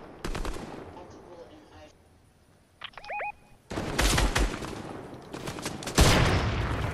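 Bursts of gunfire in the video game Fortnite, sharp rapid shots in several volleys separated by quieter gaps, with a brief tonal beep and loud close firing near the end.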